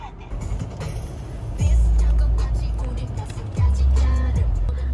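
Inside a moving car on a road, a steady low engine rumble and road noise fill the cabin and swell twice as the car accelerates.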